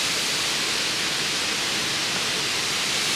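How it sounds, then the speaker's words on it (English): El Chorro waterfall in Girón, Ecuador, roars as a steady, dense broadband rush of falling water, close and unbroken throughout with no voices. "we made it to the beautiful waterfall."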